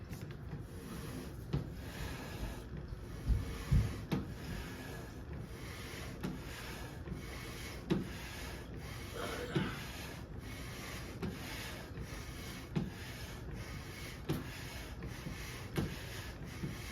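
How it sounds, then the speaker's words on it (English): A ring being lapped in a lapping fixture gives a steady rubbing, sanding-like grind with light periodic knocks. It runs throughout at a low level, with no talk. "We'll go ahead and clean everything up, and we'll check how our lapping progress is coming along."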